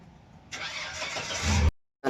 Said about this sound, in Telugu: గేర్ బండి జిఎంసి అంటే ఇది చాలా పాత మోడల్ బండి ఇది